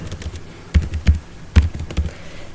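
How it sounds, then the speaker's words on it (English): Someone types a username on a computer keyboard: several distinct, close key taps with uneven spacing and no talking. "Here I am typing"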